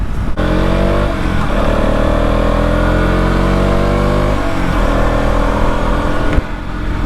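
A KTM Duke 200 motorcycle accelerates on an open road, its engine note climbing loud and close through rising gear-like steps, with a brief dip before revving up again.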